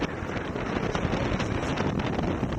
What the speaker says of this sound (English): Now we're in the breeze. It's blowing about 20 knots